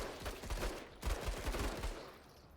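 A long-range gun fires in a turn-based tactics game, giving a few heavy, booming shots with rolling echoes. The shots are moderately loud and heard alone.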